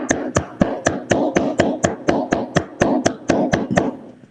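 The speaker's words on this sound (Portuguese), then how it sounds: "Palmas, por favor." At an international constitutional procedural law congress, applause greets a newly installed board. Crisp, close handclaps beat in a steady, even rhythm of roughly four per second, carrying on throughout without voices.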